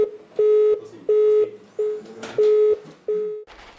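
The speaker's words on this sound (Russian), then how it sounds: "Телефон Петрогидса постоянно занят." Telephone busy signal of a housing management company's line, six evenly spaced beeps repeating in a steady on-off rhythm, loud and alone.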